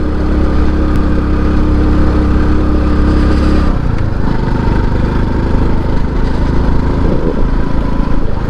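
A motorcycle climbs a hill road in third gear near Mangampeta, its engine droning loud and close. The tone shifts abruptly partway through as the load and pitch change, then carries on strong.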